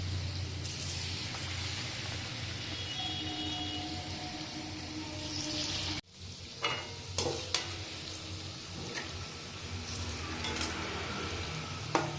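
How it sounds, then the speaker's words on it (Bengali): Palm fruit fritters fry in hot oil with a steady, close sizzle. It breaks off briefly partway through, then resumes with light clinks and stirring. "তেলটা গরম হয়ে গেছে আর এখানে দেখো মেখে নিয়েছি সমস্ত কিছু এবার বড়া ভেজে নিই"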